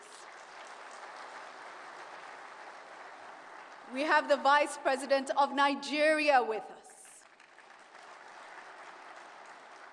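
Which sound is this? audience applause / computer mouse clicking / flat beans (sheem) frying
audience applause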